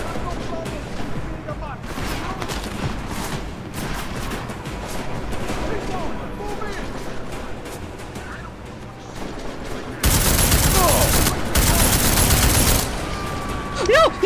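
Gunfire in Deus Ex: Mankind Divided crackles in dense, continuous volleys of rapid shots through a noisy firefight and swells into a much louder, sustained burst near the end.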